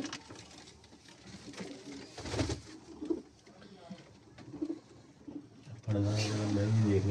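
Shaqa breed pigeons coo in soft, low bursts close by, with people talking over and between the calls and a louder stretch of cooing near the end.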